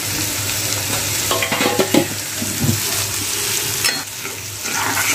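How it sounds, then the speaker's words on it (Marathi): Turmeric, salt and cumin stirred and fried in a pan while making methi bhaji: a steady close sizzle with scraping stir strokes, a few louder clatters near the middle, and no talking. "चांगले आता हलवून घेऊया. चांगली फ्राय करूया आपण."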